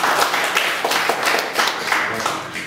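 A church congregation claps in praise, a steady patter of many hands with rhythmic accents, close and sustained for a few seconds.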